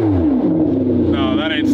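A car exhaust rumbles close by with a deep, throaty drone, its pitch shifting slightly as the engine is revved.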